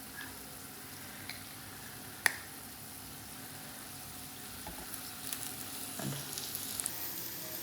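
Fish roe sizzles in hot oil in a pan for a roe roast, a soft, steady frying hiss with occasional sharp pops and light crackles rising a little toward the end.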